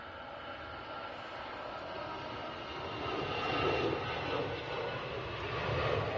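An airliner in Star Alliance livery at Manchester Airport, a steady distant jet engine roar that gradually grows louder as it passes, heard alone without talk.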